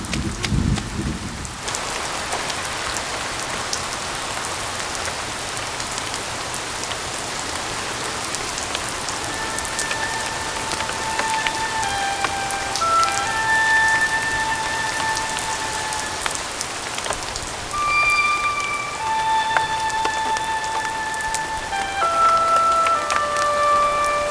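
Heavy rain falls steadily as a dense, continuous hiss and patter on surfaces, loud and unbroken, with faint tonal notes of music drifting over it in the later part.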